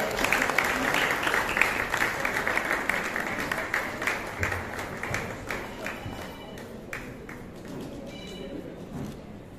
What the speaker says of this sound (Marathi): टाळ्या वाजवते